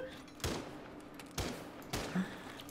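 Shotgun blasts in the video game Rainbow Six Siege, three loud, sharp shots spaced roughly a second apart over a steady background of game ambience.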